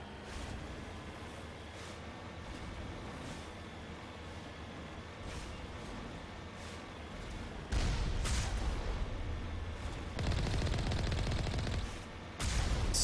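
Turrets firing in Mass Effect Legendary: a steady rumble of game gunfire runs throughout, swelling into louder bursts of rapid shots near the end, with no talk.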